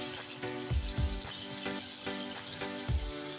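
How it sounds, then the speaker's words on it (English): Egg curry spices, salt, turmeric and zera powder, fry in a pan with a steady, close sizzle, punctuated by rhythmic low thumps and scraping of a utensil about every half second. "Fry until it turns into pale."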